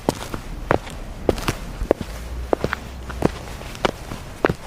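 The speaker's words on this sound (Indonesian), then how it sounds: "suara langkah kaki terus terdengar dari atap rumah" Slow, irregular footsteps walking across a house roof at night, a dozen or so soft thuds and taps spaced unevenly over a low background hum, fairly close and moderately loud, with no voices.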